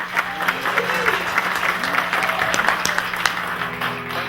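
An audience applauds a band at a Lingua Musica concert, steady crowd clapping with a few louder claps standing out and a faint murmur of voices beneath.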